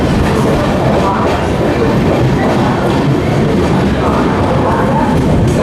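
Amrit Bharat Express passenger train running between Raipur and Nagpur, heard from inside as a loud, steady rumble with faint rhythmic clatter continuing unbroken throughout.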